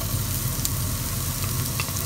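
Chopped onions frying in hot oil, a loud, close, continuous crackling sizzle with sharp pops scattered through it, heard alone.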